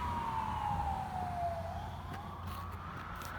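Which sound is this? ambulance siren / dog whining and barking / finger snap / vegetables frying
ambulance siren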